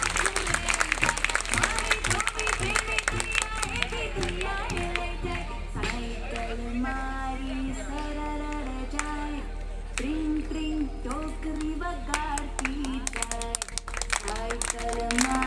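An audience claps continuously at a ceremony where a bicycle is handed to a schoolgirl, a dense steady patter of applause running under a voice and some music.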